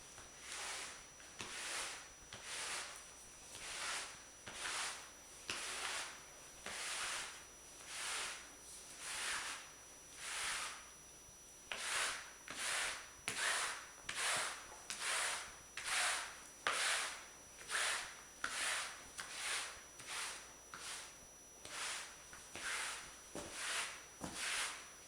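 A pet hair removal tool is dragged over a freshly vacuumed carpet in repeated rhythmic rubbing strokes, each a close, scratchy swish with short pauses between them and no talking.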